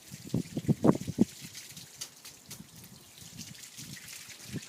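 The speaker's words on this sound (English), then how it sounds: "gutters from the garage are making lovely sounds too, dripping down" Water dripping from garage gutters outdoors, a faint cluster of quick trickling drops near the start and then scattered softer drips over a quiet background.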